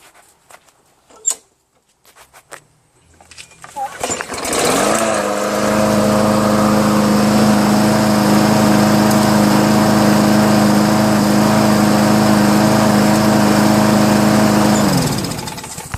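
Briggs & Stratton small engine, freshly repaired carburetor and running without its air cleaner cover, starts after a few faint knocks and settles into a loud, steady, close buzzing drone that holds until it cuts off near the end.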